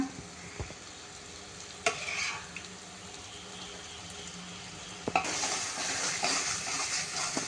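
Cooked, mashed dal is stirred into masala in a pan for amti, soft scraping stir under a steady low hiss, with a few sharp clinks and a louder swirl near the end.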